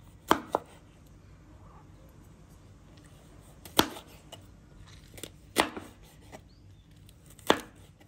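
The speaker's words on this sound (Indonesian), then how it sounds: "Bagian ujungnya kita buang. Terus kita potong." A knife cutting cucumber on a board, four or five crisp, separate chops spaced a second or two apart over a quiet background.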